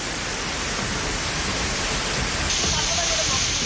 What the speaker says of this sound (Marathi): रस्त्यावर मोठे दगड आणि धबधब्यासारखं वाहणारं पाणी असं चित्र या ठिकाणी दिसतंय।